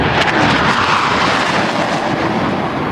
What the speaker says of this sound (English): These planes are flying close to the speed of sound.